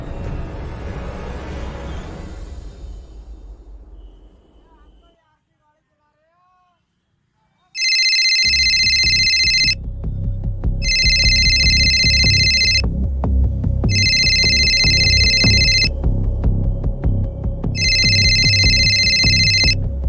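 A telephone ringtone sounds during a children's stage drama at an annual day event, repeating in four loud, evenly spaced bursts over a steady hum after a brief hush.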